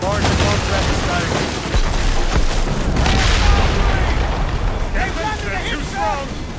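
Ship cannons fire in a naval battle in Assassin's Creed Rogue (2014): heavy booms and blasts roll over a dense roar of battle noise, with voices shouting in the background.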